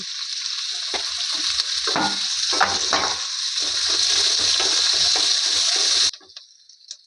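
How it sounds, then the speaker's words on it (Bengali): Ginger, carrots and curry leaves fry in oil with a loud, steady hiss and sizzle, spatula knocks and stirring scrapes scattered through it, before the sizzle cuts off abruptly, leaving a fainter hiss. "গাজর আর কারি পাতা সব একটু ভাজা ভাজা হয়ে গেছে।"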